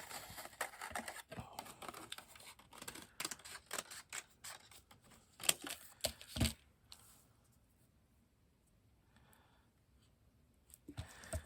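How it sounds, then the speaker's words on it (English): Scissors cut out a piece of paper for a scrappy notepad craft, giving close, quiet snips and rustles in quick irregular runs that fade into near silence, then one final snip. "So I'm just going to cut out this part right now."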